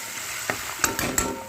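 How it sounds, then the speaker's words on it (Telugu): Mustard seeds, fenugreek, sesame, dried red chillies and asafoetida frying in hot oil: a soft steady sizzle broken by a few sharp pops and crackles from spluttering seeds, close by with no talk. "సో బాగా ఇలా వేగిపోవాలండి."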